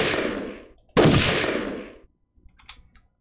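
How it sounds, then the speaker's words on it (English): Gunfire in the Jagged Alliance 2 video game: a short burst of shots, then a louder, longer volley that rings out and decays, followed by a few faint clicks. "Nice shooting going on here"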